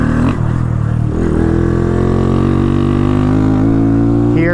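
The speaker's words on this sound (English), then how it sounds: "This exhaust sounds so good." A Honda Grom motorcycle fitted with a Zoom Polygon exhaust revs up close, the loud rasping engine note climbing steadily in pitch over a few seconds.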